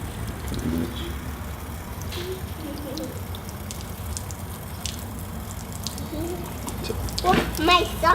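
Freshly harvested turmeric roots get washed under running water outdoors: a steady splashing trickle with scattered drips, birds chirping in the background and a voice speaking faintly.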